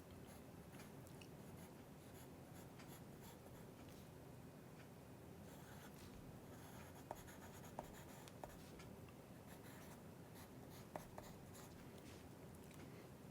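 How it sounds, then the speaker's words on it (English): A pen or pencil moves across paper while a mechanical orthographic drawing is made. The scratching is faint and continuous under a quiet room hiss, with a few tiny taps and no talking. "Let me write that down."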